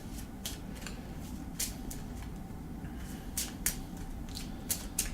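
Cards for the This War of Mine board game being shuffled up close, a series of sharp riffling snaps and flicks at uneven intervals over a quiet room hum, with no talking.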